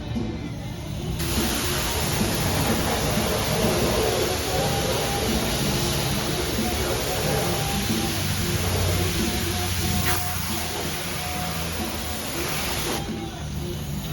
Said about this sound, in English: I'm gonna go ahead and crank that car wash up though. Pressure washer.